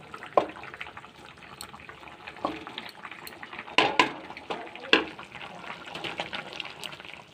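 Cooked lentils (dal) being mashed and stirred in a pot for a vegetarian meal, giving wet, irregular squelches and scrapes with a few sharper knocks, close and fairly quiet, no talking.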